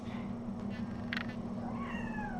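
A young kitten, recently spayed, meows loudly and insistently at close range, a couple of drawn-out cries in a quiet room under a steady background hum.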